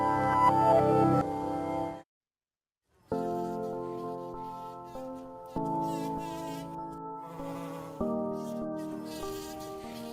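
A bumblebee buzz-pollinating a flower, a loud, sustained, close insect drone that cuts out briefly for about a second, then resumes in several bursts of steady buzzing with no talk.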